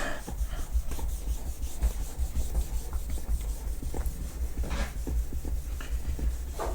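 Cloth rubbing with cleaner on parts of a Toshiba Aurex mini stereo, a close, steady scrubbing swish repeated in short strokes.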